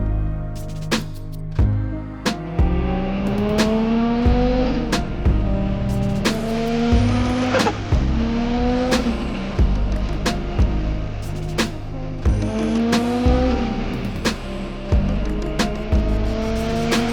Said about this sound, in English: A built 2JZ is one of the best sounds in the car world.